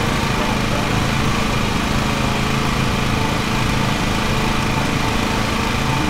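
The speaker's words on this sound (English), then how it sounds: "Driving the lawnmower downtown." A lawn mower engine in a mowing video game drones continuously and loudly, a steady buzzing hum running through the whole stretch without a break.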